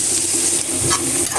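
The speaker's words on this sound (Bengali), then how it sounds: "পেঁয়াজগুলো একটু ভাজা ভাজা হয়ে নে," Onions fry in a pan with a close, continuous sizzle and occasional spatter, while a utensil stirs and scrapes, short and loud with no speech.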